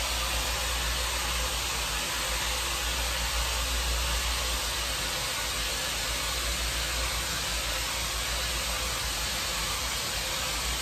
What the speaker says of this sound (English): Moving the dryer